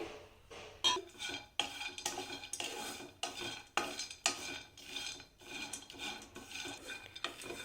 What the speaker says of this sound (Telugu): ఈ కొబ్బరిని కూడా లైట్గా ఫ్రై చేసుకోవాలి